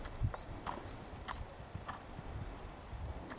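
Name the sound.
horse trotting, hooves clip-clopping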